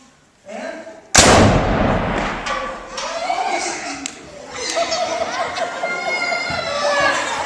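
A black powder rifle goes off nearby with one loud, sharp blast that rolls into a long ringing echo, followed by a crowd of children and adults chattering and laughing at an outdoor pack meeting.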